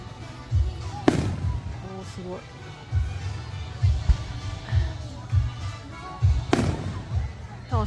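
Aerial fireworks at a summer fireworks festival at Blumen Hill in Shiga, Japan, boom repeatedly at close range, with a steady run of deep thuds and two especially sharp, loud blasts, while people nearby talk.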